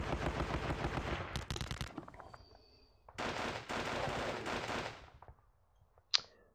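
Bursts of sustained machine-gun fire from the Battles of Normandy war strategy game rattle loudly in two long volleys with a quiet gap between them, then end in a single sharp shot.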